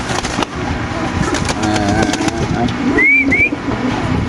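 A male pigeon coos at a pigeon market, with soft low repeated coos under background chatter and traffic noise, a couple of sharp higher chirps near the end.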